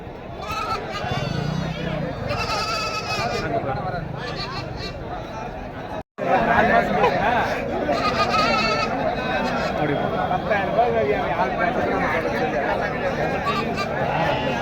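Sheep and goats bleat again and again at a busy livestock market in Pochampalli, loud and close over a steady babble of many voices talking.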